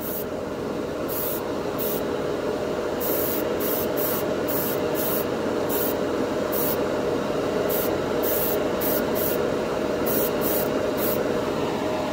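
Tamiya clear color paint sprayed from a can or airbrush, a steady loud hiss running throughout, close up and alone with no talking.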